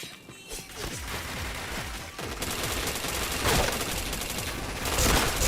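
Rapid automatic gunfire from a video game shooter rattles in dense, loud bursts, nearly continuous over several seconds with sharp crashes layered in, close and uninterrupted by talk.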